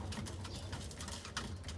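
Pigeons coo softly in a loft, low murmuring calls repeating steadily over a faint background hiss.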